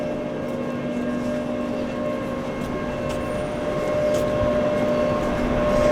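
A Sheffield tram passes along a city street, heard as a steady low rumble with a faint tonal whine, growing slightly louder toward the end, with no voices.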